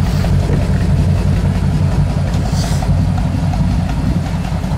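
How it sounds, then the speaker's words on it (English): A 1937 Ford Coupe with dual exhaust idles close by with a deep, steady, even rumble throughout, loud and smooth with no other sounds standing out. "Dual exhaust sounds nice."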